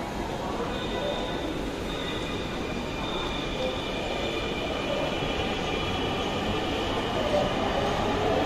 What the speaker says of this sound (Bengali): আমরা যাত্রীপূর্ণ এই ট্রেনটি থেকে নামলাম।